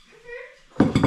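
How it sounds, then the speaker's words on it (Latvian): Dirty dishes and cutlery pushed aside in a home kitchen while cooking pancakes, a short burst of clinking and clattering near the end after quiet murmuring. "Liekam netīros traukus malā."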